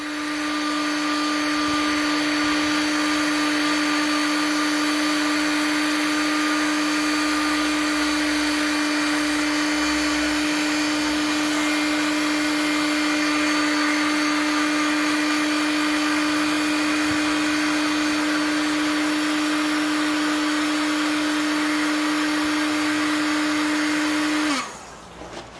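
A hot-air tool blows steadily to heat a pipe fitting on a koi pond build, making a loud, constant whining roar that runs for about 25 seconds before cutting off abruptly.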